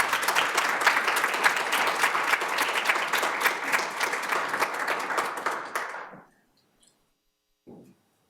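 An audience at the 2019 Higginbotham Lecture applauding to welcome lecturer Brittany Barnett, a full hall of steady clapping that fades out after about six seconds, followed by a brief quiet sound.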